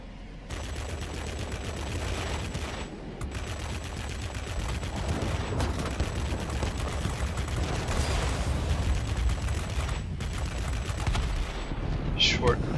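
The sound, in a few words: Messerschmitt Me P 1101 guns firing in World of Warplanes video game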